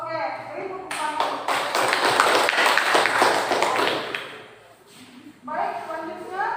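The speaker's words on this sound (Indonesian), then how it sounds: "Oke, beri tepuk tangan." A classroom full of students applauds after a group presentation: sustained, dense clapping builds, then fades to scattered claps before a voice speaks again.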